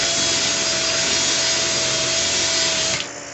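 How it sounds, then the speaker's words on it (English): A drill motor drives a case trimmer against the end of a .223 brass case, giving a loud steady whine and grinding rub for about three seconds before it cuts off abruptly. "I'm pushing down on the drill motor to get this to connect to the end of the case"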